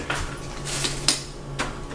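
Carrots, quartered onion and celery sticks being stirred together in a slow cooker for pot roast, giving a few scattered clinks and knocks of utensil against the pot over a low background hum.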